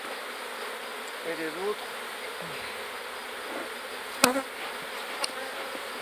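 Forager honeybees buzzing around a hive, a faint steady hum throughout with a few brief louder knocks and clicks, while a person speaks quietly nearby.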